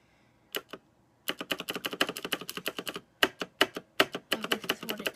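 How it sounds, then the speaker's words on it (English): Fingers type on a colorful computer keyboard in quick, irregular bursts of crisp key clicks, close and fairly quiet, with short pauses between runs. "And this is my keyboard."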